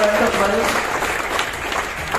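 An audience claps together in a steady, dense patter, loud and close, with a voice and some background sound mixed in at the start.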